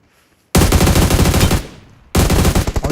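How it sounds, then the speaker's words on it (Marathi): Rapid automatic gunfire in a multiplayer shooter video game match, two loud close bursts of quick repeated shots separated by a brief silence, no talk. "दोघं जण फायर देतात अरे ते"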